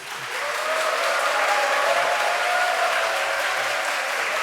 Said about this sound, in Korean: 힘찬 박수와 함성으로 우리 맞아주시면 은혜가 되겠습니다